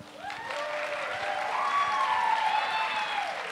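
An Ignite Denver audience claps for a speaker named Pavel as he comes out, a sustained wave of applause from the crowd with rising whistle-like tones riding over it, building and holding steady.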